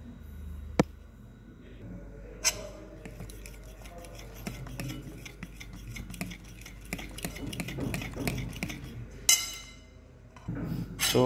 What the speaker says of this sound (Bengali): এবার এই ব্যাটারটা ভালো করে মিক্স করছি।